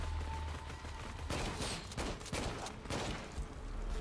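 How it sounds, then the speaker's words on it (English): Enemy gunfire in the video game Shadow of the Tomb Raider: several loud cracking shots and bursts over a constant low jungle background hum, fairly close. "who's still shooting at me?"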